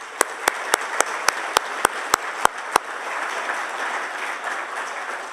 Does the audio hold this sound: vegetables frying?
no